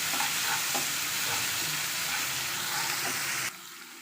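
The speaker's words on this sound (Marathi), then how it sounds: "आता आपण ही हे हिरव्या मिरचीचं चटणी करून घेतली होती ती आता आपण भाजून घ्यायची आहे" Green chili, ginger, garlic and coriander chutney roasting in a pan over mustard seeds, a steady close sizzle with soft repeated scrapes of a spatula, no voices, stopping abruptly near the end.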